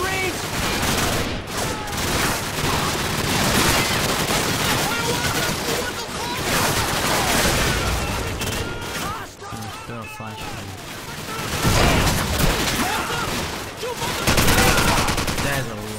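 Rapid gunfire in Call of Duty 4: Modern Warfare, with dense machine-gun bursts and heavy blasts running almost continuously, loud and close, with voices shouting over the fighting.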